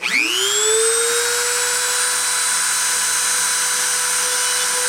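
A CNC spindle spins up to 30,000 RPM, rising fast in the first half-second into a steady, loud high-pitched whine with a dentist-drill quality that holds level throughout, with no talking.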